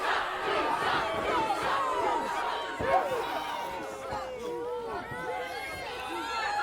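A wrestling arena crowd in Houston cheers and yells during a victory lap, a roaring mass of shouting, whoops and whistles that swells and dips, with voices calling out close by.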